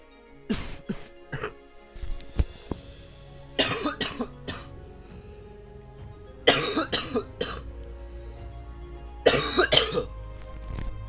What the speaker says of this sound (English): I just had a cough there